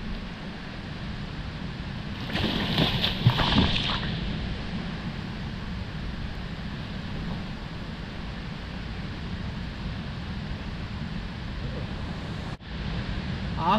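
Someone dives into river water, giving a burst of splashing a few seconds in against a steady background wash of flowing water, followed by a sharp knock near the end.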